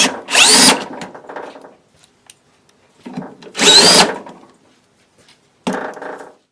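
Power drill driving self-drilling screws into pre-drilled holes in a Kangoo van, heard as three loud, close whirring bursts separated by quieter lulls.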